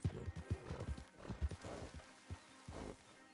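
Horse hooves in the video game Red Dead Online clop in a quick, uneven rhythm of muffled thuds, quiet and fairly close, with a faint whinny-like tone mixed in.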